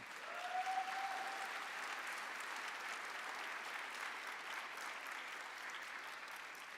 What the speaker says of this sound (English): why not take a moment to applaud them for all that they've contributed as well